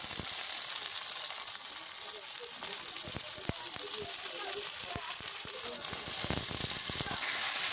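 Onion frying in a pan for a pointed gourd dish, a constant bright sizzle dotted with sharp pops and crackles, close and steady without talk.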